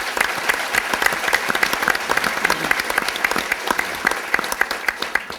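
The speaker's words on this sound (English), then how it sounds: "If we could please have a round of applause for all of our sponsors." A business breakfast audience gives a warm round of applause for sponsors, with many individual claps audible in a lively, even patter that fades slightly at the end.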